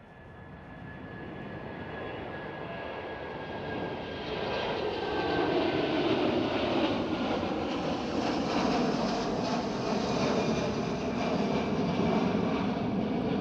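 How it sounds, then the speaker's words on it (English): An Air China Cargo Airbus A330 passenger-to-freighter conversion at Schiphol Amsterdam roars steadily past, its broad jet rumble building after a few seconds and holding loud and close, with a faint engine whine early on and no talk. "Air China Cargo with an A330 passenger to freighter"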